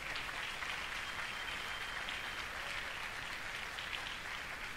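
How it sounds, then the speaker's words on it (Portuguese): A church congregation at a prophetic conference applauds, a steady, dense wash of clapping that holds evenly at the same level for the whole stretch with no voices rising above it. "Você pode aplaudir Jesus por isso?"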